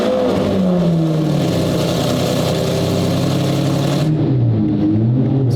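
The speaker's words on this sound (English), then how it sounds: "So we're gonna jump in none other than the Murcielago V12. Cold start coming to you right now." Lamborghini Murcielago V12 engine starts from cold, a loud, continuous close-up roar with a rising and falling rev, then settling lower in the final second; no talking.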